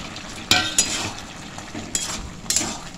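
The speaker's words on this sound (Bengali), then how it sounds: "ভালো করে মিশিয়ে নিচ্ছি। শসাগুলো দিলাম" Chickpeas with chopped cucumber being stirred in a hot pan make a low frying sizzle broken by a few sharp spoon clinks and scrapes against the metal, close up and without voices.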